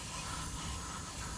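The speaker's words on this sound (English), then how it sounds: "One last spray." Aerosol brake cleaner hisses onto the brake parts of a 2013 Honda CR-V, a steady, close, broadband spray lasting the whole short moment without pause.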